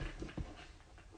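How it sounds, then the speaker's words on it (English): A small toy poodle mix dog pants quickly near the microphone, with a few soft whimpering breaths mixed into the short, rapid huffing. "I got a dog of my own. He's a toy poodle mixed with a peekaboo."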